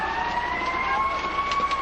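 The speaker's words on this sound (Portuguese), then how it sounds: "já se escuta a sirene dos bombeiros chegando" A fire engine siren wails steadily in the distance as it arrives, its tones drawn out and slowly shifting over a constant background hum.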